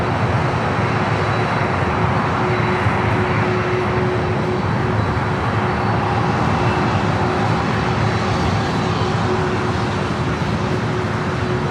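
A Boeing 747, formerly a passenger jet, roars steadily at LAX airport, its loud, continuous engine noise holding a constant whine throughout with no talking.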